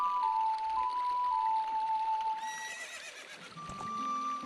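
A horse whinnies in the video game Zelda Ocarina of Time, a quavering neigh rising and falling over a soft background of game music, fairly close and with no talking.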